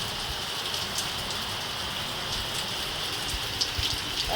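Dense, steady rain pours down with a constant hiss, a few louder drops standing out now and then; no voices.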